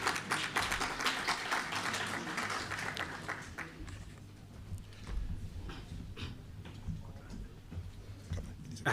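Applause at a World Teachers Day gathering: a moderate round of clapping that is strongest at first and thins to scattered claps, with faint voices and room noise underneath.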